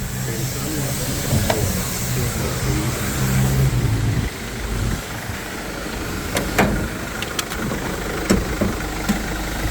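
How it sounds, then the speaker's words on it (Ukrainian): A Mercedes Sprinter van engine runs at a steady, smooth idle, a low even hum with faint hiss, near and moderately loud, with occasional small clicks over it. "Чиста м'яка робота автомобіля. Ніде не грюкає, не стукає"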